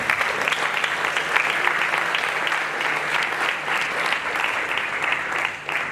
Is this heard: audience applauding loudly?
yes